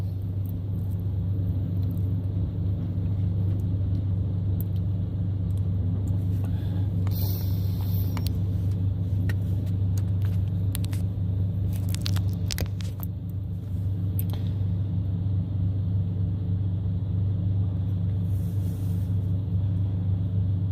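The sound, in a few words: car of a convoy driving past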